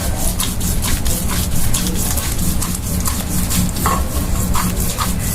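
Cumin seeds are ground by hand on a stone slab, a continuous, close, rhythmic rubbing and scraping that stays loud and unbroken throughout.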